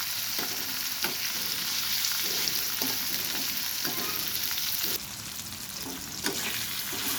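Pulao rice frying in a pan, with a steady hiss and sizzle broken by periodic scraping stirs; the sizzle continues without talk.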